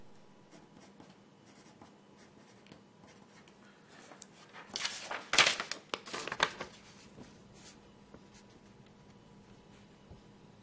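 A Staedtler Norica HB pencil scratches on paper in a quiet room, faint strokes at first, then a louder burst of firm, rapid scribbling before fading back to light scratching.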